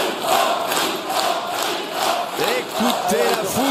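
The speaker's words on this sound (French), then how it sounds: "Écoutez la foule." A crowd at a petanque semi-final cheers and shouts in swelling waves, loud and close, with individual voices calling out over the roar.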